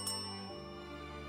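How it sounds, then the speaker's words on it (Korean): A single bell rings once with a bright metallic ding on an old Seoul street near Deoksugung in Jeongdong, its long tonal hum sustaining and slowly fading, close and fairly quiet with no talk. "안창호에게 의문의 종소리와 함께 반가운 소리가 들려옵니다"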